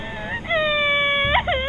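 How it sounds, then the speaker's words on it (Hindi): Eerie wailing cry rising from a well in a horror story, a single sustained tonal moan that wavers and bends upward at the end, alone over a low background rumble. "उस कुएं से रोने की आवाज भी आ रही है।"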